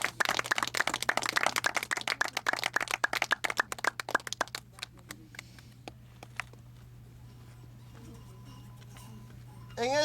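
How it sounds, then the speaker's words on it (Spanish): A church congregation claps at a Spanish-language service, a dense burst of applause that thins out into scattered claps and fades, with voices present. "Dale un aplauso al Señor Jesucristo"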